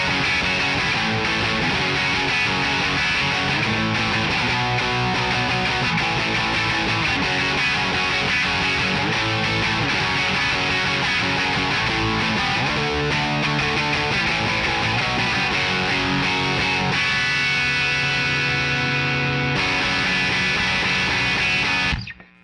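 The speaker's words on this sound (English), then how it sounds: "the harder you hit the strings, the more distortion you're gonna get." Heavily overdriven electric guitar through a saturated vintage Marshall tube amp plays continuously, thick and buzzing with sustained chords and riffs, loud and close, ending abruptly.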